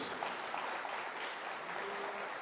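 Church congregation clapping in praise to God, a brief, fairly quiet wash of dense applause from a gathered audience, steady and even with a faint voice briefly under it.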